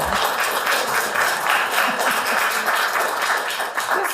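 Sustained audience applause at a spoken word and poetry open mic, a dense, steady wash of many hands clapping that holds for the whole stretch without letting up.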